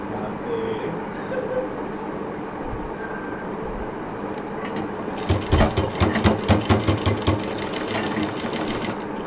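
A sewing machine stitching a homemade door mat, starting after a stretch of quiet room noise and running in a fast, even mechanical rattle for a few seconds, loud and close.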